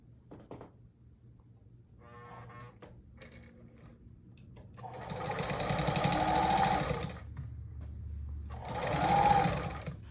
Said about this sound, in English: I'm sewing at approximately, I'm using about a 1/4 inch